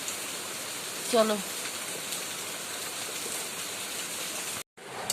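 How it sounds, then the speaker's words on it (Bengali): Heavy rain pours down in a steady, close wash of noise. A voice speaks a single brief word early on, and the sound cuts out abruptly near the end before resuming. "হঠাৎ করে ঝমঝমিয়ে বৃষ্টি পড়ছে।"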